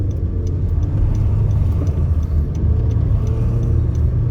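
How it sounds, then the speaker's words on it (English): Steady low road rumble of car traffic heard from inside a moving vehicle, a continuous engine and tyre drone with faint ticking on top and no talking. "I'm out of this weird traffic situation there"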